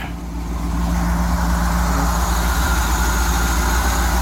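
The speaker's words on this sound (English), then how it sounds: "You can hear the motor." The engine of a 1979 GMC 7000 dump truck with about 68,000 miles idles close by with a loud, steady, low rumble throughout.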